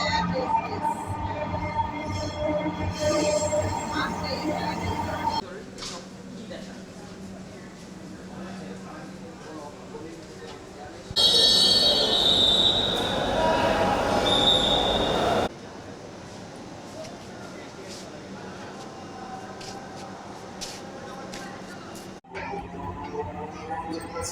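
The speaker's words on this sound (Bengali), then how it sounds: "পরবর্তী স্টেশনে ট্রেনটি তার শেষ গন্তব্যে পৌঁছাবে" Dhaka Metro Rail train running, a steady loud rumble with brief high wheel squeals and a louder stretch midway, with announcements and voices talking over it.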